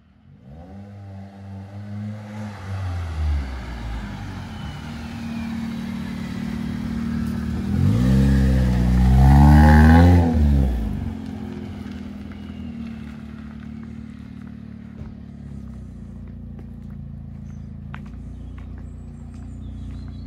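Modified Nissan Micra K11 engine revving on the move, a droning mid-pitched hum that climbs in pitch through several gear-like sweeps, peaking loud around the middle before settling to a steadier cruise.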